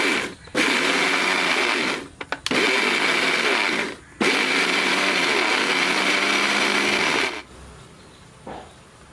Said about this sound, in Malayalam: ഇനി ഈ ചിരണ്ടിയ തേങ്ങ മിക്സിയിലോട്ട് കയറ്റിയിട്ട് നല്ലോണം അടിച്ച് അതിൻ്റെ പാൽ എടുക്കുകയാണ് വേണ്ടത്